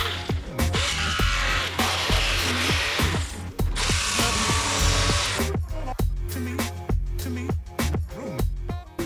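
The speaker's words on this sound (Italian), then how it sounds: "me la taglio piano piano con il multitool" A multitool cuts a small metal plate to 7 cm during a repair, making a loud, continuous buzzing whine broken by rapid rattling strokes and brief pauses, with no talk.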